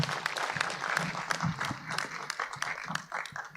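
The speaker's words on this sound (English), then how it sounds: "I think that he deserves a bigger hand clap than that." A graduation ceremony audience applauds a minister, a steady, distant patter of many hands clapping in a large hall with faint chatter underneath.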